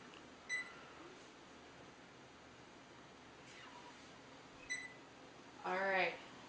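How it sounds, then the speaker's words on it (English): Kitchen timer being set while a chocolate cake bakes: a few short, faint electronic beeps spaced seconds apart in a quiet room, followed by a person talking. "we're going to set the timer for about 35 minutes"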